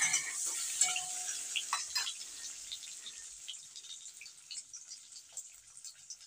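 Eggs frying in oil for a Bengali egg curry, a steady close sizzle with scattered pops and light stirring clinks throughout, no voices.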